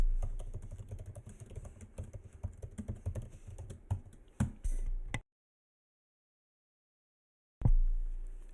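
Password typed on a computer keyboard while testing for open ports and cipher suites: quick, close clacking keystrokes in an uneven rhythm for about five seconds, then silence, then a final louder key press.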